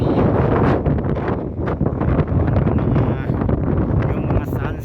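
Strong wind roars without a break during a sandstorm in Saudi Arabia in summer, a loud, gusty rush of blowing air and dust close to the microphone.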